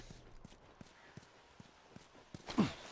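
Horse hooves in The Last of Us on PS4 clip-clop in a slow, regular walking rhythm, faint and evenly spaced, ending with a louder brief burst of noise.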